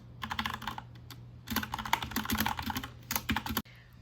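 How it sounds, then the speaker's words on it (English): Rapid typing on a computer keyboard comes in close, crisp bursts of clicking keys separated by brief pauses, ending with a sharp final keystroke; no voices. "I haven't done a typing montage yet today."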